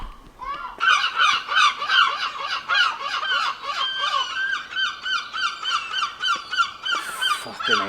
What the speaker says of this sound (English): Fucking hate those seagulls.